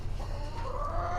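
Hens in a hen house give a brief run of soft clucks over a low background rumble.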